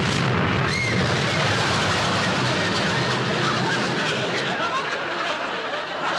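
A bomb blast sound effect from a 1960s TV comedy bursts into a long, loud, broadband roar and rumble that stays heavy before easing slightly at the end, no speech over it.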